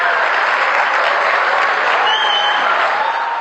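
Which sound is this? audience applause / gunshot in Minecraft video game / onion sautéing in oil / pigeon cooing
audience applause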